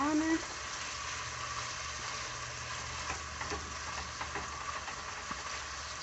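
Corn meal sauce is stirred in a pan on the stove, with a steady soft sizzle of frying oil and faint scraping and stirring sounds beneath. A voice is heard briefly near the start.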